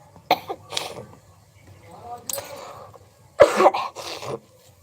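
Several harsh coughs come in bursts, a couple early, one midway and a louder pair near the end, with quiet breathy sounds between them.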